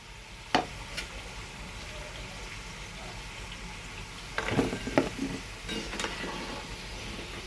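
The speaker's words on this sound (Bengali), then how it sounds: "দেখো সবগুলো কচুরি কিন্তু আমার ভাজা হয়ে গেল।" Kachori fry in oil with a soft, steady sizzle, a few sharper pops and a brief louder bubbling burst near the end.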